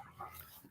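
A dog barks faintly in the background indoors, giving a few short, distant yips and barks within a brief, quiet moment.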